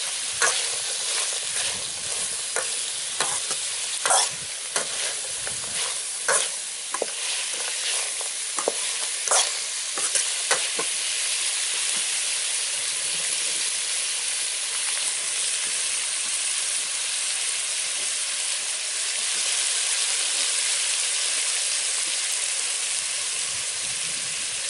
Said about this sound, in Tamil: நல்லா கொதிச்சிட்டு இருக்குது.